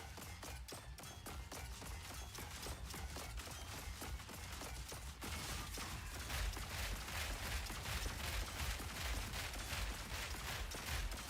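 Repeated cannon blasts launching grenades in a video game, a dense, continuous barrage of rapid booming shots with no pauses.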